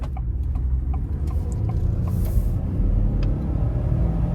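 A 2024 Ford F-150 with the 3.5 EcoBoost engine accelerating through a corner: a steady, loud low rumble of engine and road noise fills the cabin, with light rattles and a brief hiss partway through, and no talk.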